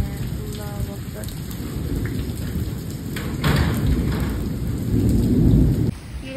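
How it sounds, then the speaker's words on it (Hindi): Heavy storm with torrential rain and hail pounding steadily, while thunder rumbles low and swells in loudness through the middle and near the end. "ज़्यादा ओले बरसे हैं बेइंतहा और बारिश भी बहुत तेज़ है, तूफ़ानी बारिश हो रही है।"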